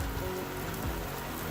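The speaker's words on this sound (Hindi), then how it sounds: "लेकिन बारिश अभी भी हो रही है" Steady rain falls through the night during a July monsoon, a dense, continuous hiss of drops hitting surfaces with a low rumble beneath, loud and unbroken with no voices.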